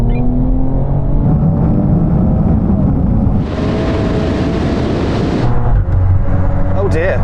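Tuned hot hatchbacks accelerate hard in a rolling race from 50 mph, engines roaring loudly and continuously with heavy wind and road noise, one rising surge of throttle partway through, recorded from inside a car.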